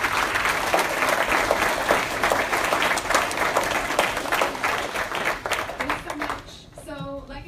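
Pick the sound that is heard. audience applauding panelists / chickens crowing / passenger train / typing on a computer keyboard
audience applauding panelists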